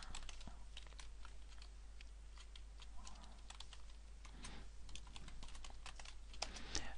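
Fast clicking of a computer keyboard while C code is typed during a programming lesson, a close, continuous patter of keystrokes over a low steady hum.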